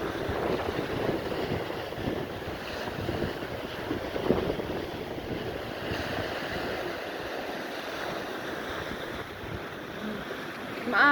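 Wind buffets the microphone on Admiralty Park beach in Bermuda, with rough ocean surf rumbling and washing continuously underneath, a steady, loud, noisy roar with no voices.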